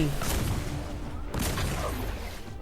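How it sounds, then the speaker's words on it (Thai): Booming cannon shots in the mobile game Arena of Valor (RoV), a few heavy blasts amid a dense, busy mix of game sounds. "เสียงปืนใหญ่โคตรดีทุกคน"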